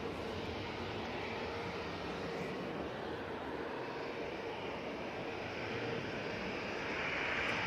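Virgin Atlantic airliner climbing out from Manchester Airport, a steady broadband jet roar held at a fairly constant level throughout, slightly swelling toward the end, heard from a distance with no talk.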